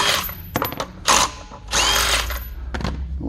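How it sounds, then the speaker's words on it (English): A power tool such as an impact gun or drill whirs in a few short bursts while removing the lug nuts from a Volvo S60R wheel during a tire change, heard close with brief clicks between runs. "Bust all these lug nuts right out like that."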